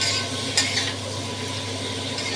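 Cauliflower is stirred with ghee in a hot pan, giving a continuous, close, fairly loud sizzle with a brief scrape of the spoon near the start.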